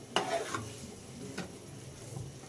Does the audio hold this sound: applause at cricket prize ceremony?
no